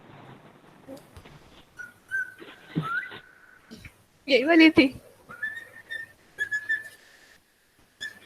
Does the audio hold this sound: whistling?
yes